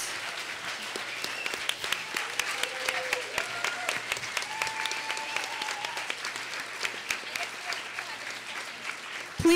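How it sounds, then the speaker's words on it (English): An audience applauds panelists at an Indigenous women's climate campaign event, a steady, dense wash of clapping that goes on throughout at a moderate, slightly distant level. "Let's give a warm round of applause for all of our panelists."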